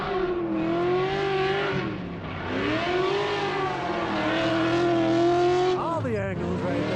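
Drift car in a qualifying run at the Piedmont Drift Invitational, engine held loud and near on the throttle with rising and falling revs and a sharp rev change near the end, under continuous commentator talk.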